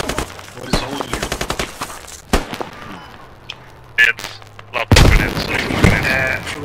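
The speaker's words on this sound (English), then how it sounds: "Lots of grenades, vehicles." Squad game battle with bursts of automatic gunfire and heavy grenade explosions, rapid rattling shots early, then sharp isolated blasts and a loud close detonation near the end, under a quiet voice.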